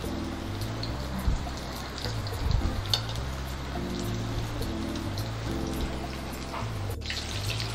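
Chicken kola urundai balls fry in oil over a low flame, giving a steady, bubbling crackle with a few light clinks and pops scattered through it.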